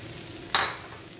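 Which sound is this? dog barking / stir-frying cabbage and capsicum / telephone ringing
stir-frying cabbage and capsicum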